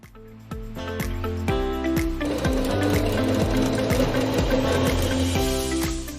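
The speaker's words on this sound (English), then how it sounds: "Now we're going to take your waistband and your skirt to the sewing machine." A sewing machine stitches a waistband onto a pleated skirt, its motor running in a steady, continuous whir at close range with a rhythmic mechanical chatter and no talking.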